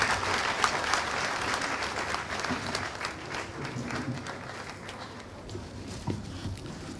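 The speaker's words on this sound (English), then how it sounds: "please, with a loud round of applause" A large audience at a special university congregation in Ghana breaks into sustained, loud applause to welcome the Minister of Power to the podium, the dense clapping filling the room steadily with a faint murmur underneath.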